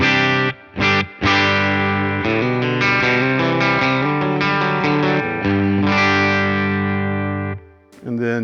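Electric guitar through a Tone King Imperial preamp on its black panel clean channel: ringing chords and single notes played in bursts with short pauses between them, bright and sustained, heard up close.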